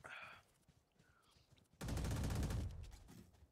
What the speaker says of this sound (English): I'm gonna give the Odin a little try